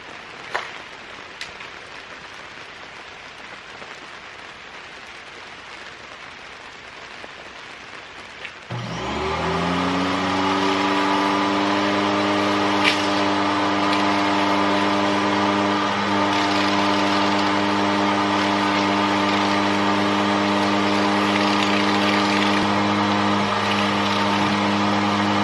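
A Sun Joe SPX3000 electric pressure washer starts up after a quiet stretch of faint clicks and handling noises, then runs loudly and steadily with a constant motor whine and hum until the end.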